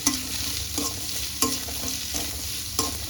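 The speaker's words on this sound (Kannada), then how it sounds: "ಎರಡು ಈರುಳ್ಳಿ ಇದನ್ನ ಫ್ರೈ ಮಾಡ್ಕೊಳ್ಳಿ" Two onions frying in a pan for an egg and chicken bassaru, a low steady sizzle with regular spoon scrapes about every half second to second, close and fairly quiet, no voices.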